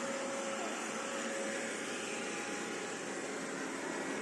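A Roborock S5 Max robot vacuum whirs with a steady, close, even hum as it works across carpet, never pausing.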